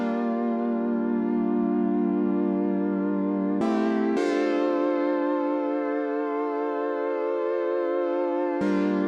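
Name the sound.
synth chord pattern, Logic Pro Alchemy Evolving Currents preset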